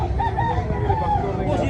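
A rooster crows nearby at a poultry expo in Carbon Public Market, over a murmur of background chatter and the clucking of other fowl.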